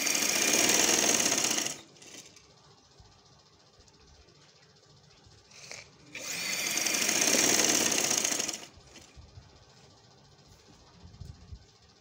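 Sewing machine running straight stitches to attach dori piping along a kameez, with two sustained loud bursts of whirring separated by a quiet pause, and no talking.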